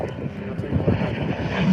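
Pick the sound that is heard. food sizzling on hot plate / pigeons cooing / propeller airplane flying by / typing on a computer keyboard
propeller airplane flying by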